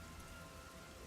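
Steady rain falls in the video game Master Detective Archives: Rain Code. It is a soft, constant hiss of rainfall with no speech, held at an even level throughout.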